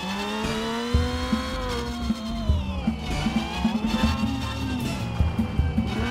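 Race car engine from the video game Screw Drivers, a steady droning whine that holds throughout with small pitch shifts and brief bumps, loud and continuous with no talk over it.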